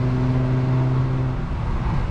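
A car fitted with a Speed Culture Studios custom exhaust gives a steady, loud, close engine drone with a deep resonant rumble that eases slightly toward the end.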